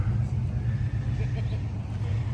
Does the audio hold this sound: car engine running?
yes